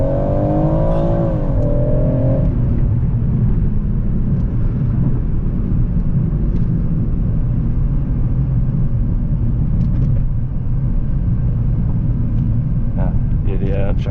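BMW M140i hatchback accelerating hard from inside the cabin, a loud steady engine rumble and drone rising briefly at the start, with a voice talking over it.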